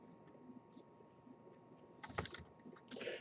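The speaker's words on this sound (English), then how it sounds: "I will go in and manually type it in." Computer keyboard typing in a quiet room, a few soft scattered taps followed by a brief burst of quicker, louder keystrokes near the end, close and alone without speech.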